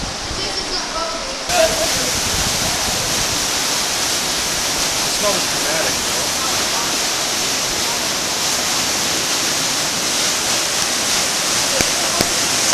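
Water rushes with great force through The Subway slot canyon in Zion National Park, Utah, a loud continuous roar filling the whole clip, with a voice speaking briefly under it.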